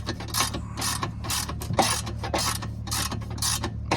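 A hand ratchet tightens a 5/16 bolt on a Club Car golf cart upper A-arm, a close rapid clicking in quick repeated bursts over about four seconds, with no talking.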